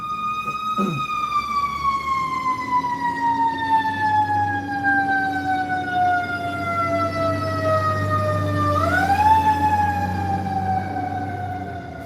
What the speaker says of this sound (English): There's always ambulances going off in Los Angeles.